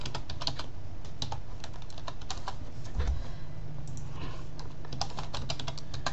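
Computer keyboard typing as account details are entered to log into Toontown: rapid, irregular key clicks, close and fairly steady, over a low constant hum, with no talking.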